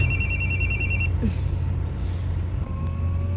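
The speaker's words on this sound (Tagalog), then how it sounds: "Ay, nanawag. Kadiyot. Nanawag man si Martha" A telephone rings with an incoming call, a steady electronic trill sounding for about a second over a constant low rumble of traffic or engine noise, then stopping.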